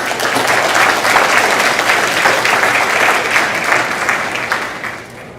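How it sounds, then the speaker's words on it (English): Steady audience applause at a school event, dense clapping that stays loud for about five seconds and tapers slightly at the end, with no voices over it. "Let's give him a round of applause."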